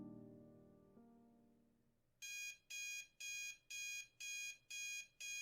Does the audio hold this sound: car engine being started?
no